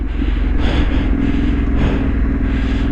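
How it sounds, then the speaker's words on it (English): A trail motorcycle engine drones loudly and steadily up close, with rough pulsing as the rear wheel slips off the throttle and the revs dip. "Just hear that rear wheel under rotating a little bit when you're backing off the throttle."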